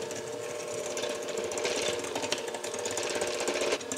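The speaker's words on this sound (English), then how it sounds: "We're going to keep our mixer on very low, on stir." Electric stand mixer running on its lowest stir setting while blending cake batter for a tres leches cake, a steady buzzing whir that holds close and fairly even throughout with no talking.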